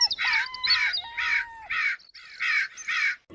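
A cartoon crow caws in a quick run of about seven harsh, evenly spaced calls, loud and close, with nothing else behind them.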